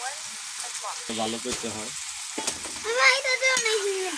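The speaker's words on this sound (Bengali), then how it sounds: "এখন এখানে টমেটো দেওয়া হচ্ছে।" Tomatoes tipped into a rui fish curry sizzling in a pan in a small home kitchen, a steady frying hiss that swells toward the end, with someone talking over it.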